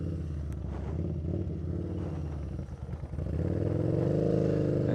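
A Yamaha Bolt motorcycle rides in first gear, its engine a close, steady low rumble with wind buffeting that swells in pitch and loudness as it accelerates toward the end.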